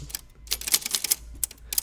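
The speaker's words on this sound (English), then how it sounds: "Typewriter." Rapid clacking of typewriter keys, an uneven burst of sharp mechanical strikes close by, with a low hum underneath.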